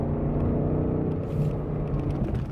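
A BMW M8 Competition engine pulls hard through the gears of a ZF 8-speed on a smooth road, a loud continuous deep rumbling drone from inside the car, steady throughout with a slight dip midway.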